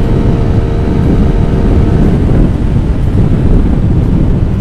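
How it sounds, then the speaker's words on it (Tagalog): Steady, loud wind roars and buffets the microphone without letup as a motorcycle rider is hit by the wind, a dense low rumble with no voices. "Totoo din pala na meron yung bangga ng hangin"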